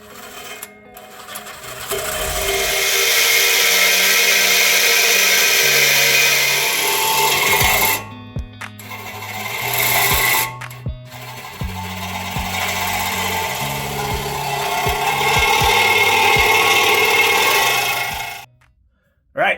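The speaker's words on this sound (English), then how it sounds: "first thing I gotta do is get our Sawzall out" A loud, harsh reciprocating saw rasps steadily through the metal exhaust pipe of a 1962 Chevy, pausing briefly a few times before cutting out near the end.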